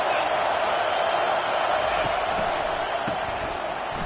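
A football stadium crowd at a Purdue Boilermakers game roars in a steady, dense wash of cheering and shouting that holds loud and unbroken throughout, with scattered whoops poking through.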